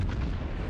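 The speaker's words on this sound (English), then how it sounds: "Wasted salvo." A warship's main guns fire a salvo in World of Warships, a deep, loud, sustained boom with a rolling low rumble that fills the whole moment.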